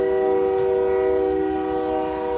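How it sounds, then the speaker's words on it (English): Passing train sounding a loud, sustained horn, a steady multi-tone blare that holds throughout without talk. "Excuse the train."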